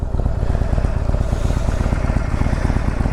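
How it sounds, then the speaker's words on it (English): A 48 Special motorcycle being ridden, its engine running with a loud, steady, rapid throb and continuous rumble right up close, unbroken from start to finish. "thank you guys for coming along for a little rip on the new 48 Special"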